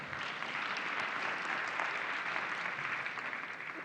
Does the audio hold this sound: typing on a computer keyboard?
no